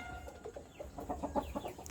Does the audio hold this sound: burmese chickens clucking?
yes